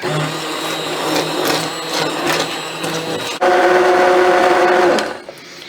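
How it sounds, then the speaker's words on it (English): Immersion blender pureeing potato onion soup in a pot: a close, steady motor whir that rises in pitch partway through and then shuts off. "I'm just going to just blend this up until it is smooth"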